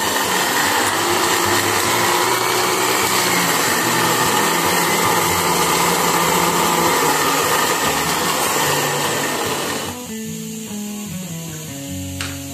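A blender grinds eggshells into powder with a loud, continuous whirring roar that holds steady, then shifts to a lower, rougher tone near the end as the powder settles.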